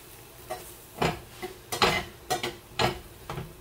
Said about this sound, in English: get this stirred in